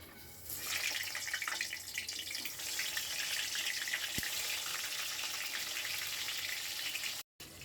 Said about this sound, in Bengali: এখন পটলগুলা ভেজে নিব।